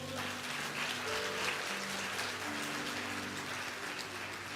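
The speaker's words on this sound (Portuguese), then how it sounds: "Você pode dar um aplauso a Ele?" A church congregation applauds, a steady rain-like wash of many hands clapping across a large room, fairly faint and sustained throughout, with a low hum underneath.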